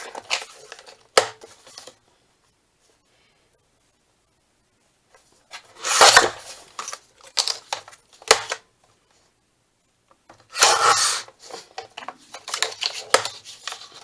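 Cutting the end off a handmade journal cover, heard as close, rough scraping strokes in two main bursts with shorter rasps and taps between, separated by quiet pauses.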